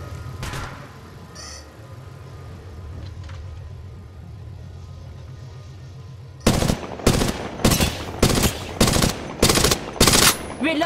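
In an Apex Legends Mobile solo match, a quieter stretch with a low droning hum gives way to about eight loud, sharp gunshots fired in a steady, evenly spaced rhythm.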